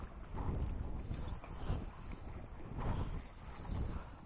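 Strong wind buffeting a microphone on a breakwater by the sea, gusting in uneven surges with low rumbling pulses, fairly faint and without talk.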